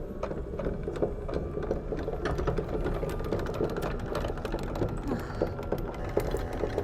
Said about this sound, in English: I can lower this anchor and I can even do that from the dock mate